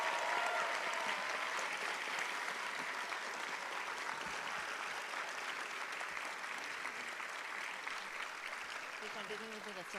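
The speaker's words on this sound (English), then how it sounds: "Can we hear a really, really round of applause?" A crowd at a chenda melam Arangettam ceremony claps in sustained, even applause for the students, moderately loud and continuous for the whole stretch, with faint voices murmuring underneath.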